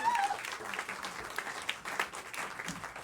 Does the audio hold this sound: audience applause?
yes